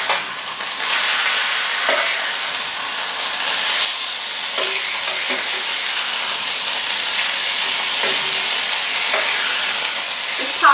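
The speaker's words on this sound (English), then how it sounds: "It's popping a little because there's a lot of moisture in the fish, even though we blotted the top of it." Cod fillets frying in a pan give a steady close sizzle with scattered sharp pops and crackles throughout, and no voices.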